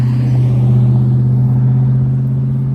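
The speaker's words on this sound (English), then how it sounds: "this is dodgy looking truck" A truck driving past a person walking outdoors, a loud close engine rumble with a deep steady drone that swells slightly and then eases off.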